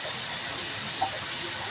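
Hot water poured over corned beef in a cooking pot gives a steady, soft hiss and rush of liquid, with one brief brighter splash near the middle and no talking.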